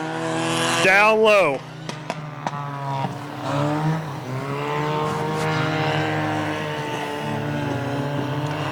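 Hornet class race cars circle USA Raceway through turns 3 and 4 in a main event, engines droning steadily at a distance beneath continuous loud race commentary.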